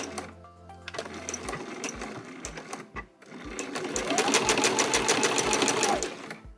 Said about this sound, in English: I am going to make sure to backstitch at the beginning and the end of this row of stitches.